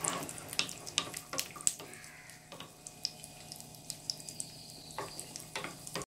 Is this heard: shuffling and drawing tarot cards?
no